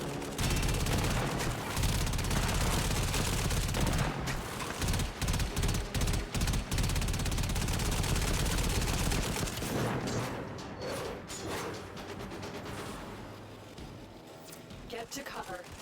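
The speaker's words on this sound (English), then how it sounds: "The Fomorian's guns will obliterate you." Heavy video game gunfire from the Fomorian's guns fills the scene, dense bursts of rapid shots and booming impacts that thin out toward the end, with speech mixed in.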